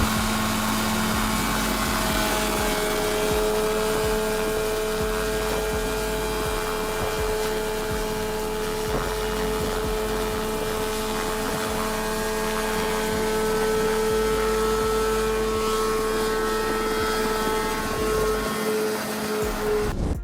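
A Revolution Mini 500 ultralight helicopter runs steadily, its engine giving a constant droning hum with a sustained tonal whine, loud and unbroken throughout with no voices.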